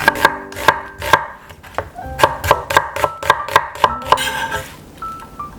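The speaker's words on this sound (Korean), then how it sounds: "쪽파는 송송 썰어 준비해주고 양파 반 개는 채 썰어 준비해줍니다" A knife slices green onions and half an onion on a board: loud, close, crisp chops in quick runs with short pauses, ending in a softer scraping sweep.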